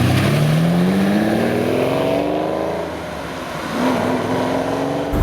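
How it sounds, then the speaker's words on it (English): A Lamborghini Countach engine pulling forward at low speed, a loud, steady close-up drone with rising pitch as it accelerates, dipping briefly before climbing again. "We're driving a Countach."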